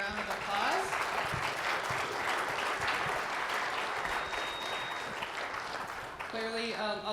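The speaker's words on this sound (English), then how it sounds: "Let's give our panel a round of applause." A panel audience applauds steadily for several seconds, dense clapping filling the room before it thins out near the end and a voice begins speaking.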